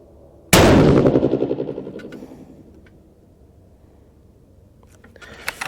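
A single sharp, loud 6.5 PRC rifle shot firing a 147-grain ELD load cracks close by, followed by a rippling echo that fades over a couple of seconds, then faint small clicks.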